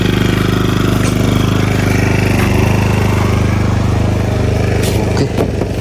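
A motorcycle engine idles loudly and steadily right after starting, with a continuous close-up rumble that shifts slightly near the end.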